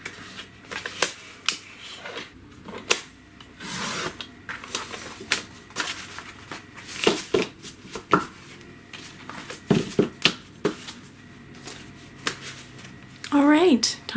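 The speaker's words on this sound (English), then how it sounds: "So I have several sheets to cut now." Sheets of watercolor paper being cut for a journal, with repeated crisp slicing and clicking strokes at close range, interspersed with handling noises and a person talking.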